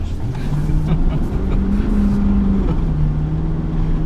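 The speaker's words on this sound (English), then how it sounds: "just a little donut there." A 2016 Nissan Titan XD pickup with a Cummins 5.0-litre turbodiesel V8 spins a donut, its engine holding a steady low drone that rises slightly mid-turn, loud and close, with tire and road noise underneath.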